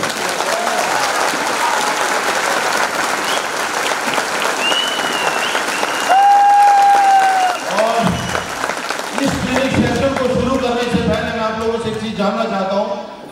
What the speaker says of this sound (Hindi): एक बार जोरदार ताली आप सभी लोगों का।